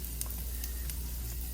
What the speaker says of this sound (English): we're pan searing, and we're not necessarily deep frying them though.